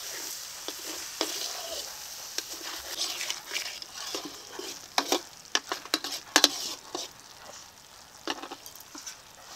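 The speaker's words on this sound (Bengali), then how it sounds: "এখন হালকা করে কষিয়ে নেব" Rui fish kalia sautéing in a pan sizzles softly and steadily, with sharp scraping stirs and taps growing busier toward the end, close by.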